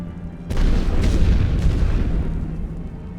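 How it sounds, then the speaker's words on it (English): An artillery barrage in The Great War: Western Front strategy game, with a deep rumbling boom followed by a second blast soon after, both loud and rolling, fading into a low lingering roar. "Yet more artillery is going down."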